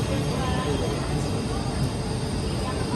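Steady, loud rumbling of a high-speed train in motion on the Jakarta–Bandung route in Indonesia, a continuous low roar with rail noise that holds constant throughout, heard from inside or close by.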